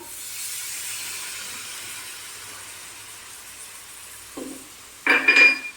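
Water is poured into a pan of red lentil and rice khichuri cooked with cumin powder. A low hiss runs throughout, then a sharp, loud burst of sizzling steam breaks out near the end.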